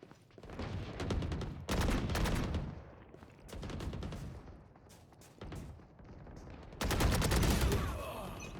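Automatic gunfire in a video game, sprayed in several long bursts of rapid, loud shots with brief pauses between them.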